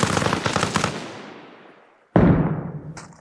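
A frag grenade goes off in the video game ArmA Reforger: one sudden loud close blast with a short ringing tail, preceded by a fading rumble of earlier noise.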